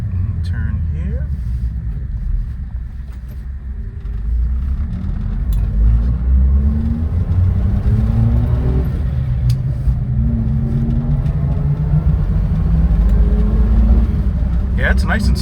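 Cabin sound of a 1998 Suzuki Jimny K6A turbo with a manual gearbox pulling through its gears: a low engine rumble rises and drops with each shift as it picks up speed.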